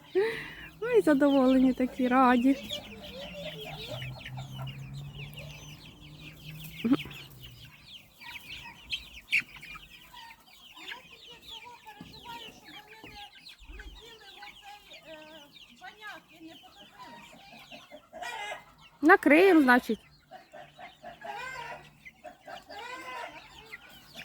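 Chickens clucking and peeping near a voice as they are driven out to pasture, a loud squawk at the start and another burst near the end, softer clucks in between.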